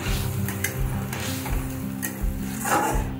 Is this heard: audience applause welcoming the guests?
no